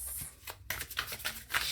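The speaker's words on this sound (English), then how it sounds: "shuffling at this point." Tarot cards are shuffled by hand in quick, soft riffling bursts and slaps, close and fairly quiet, with short pauses between.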